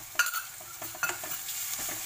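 Chicken pieces fry and sizzle softly in a pan under a few sharp scraping stirs of a spatula, quiet and close, with no voices.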